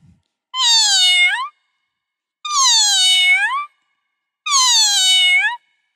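A mimicked female cat answers with three loud, close, wavering meows of similar length, each followed by a pause, with nothing else heard.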